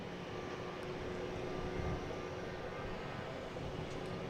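Airliner cabin before takeoff bound for Dallas-Fort Worth: a steady low engine and ventilation drone with a constant faint tonal hum, even and unbroken throughout.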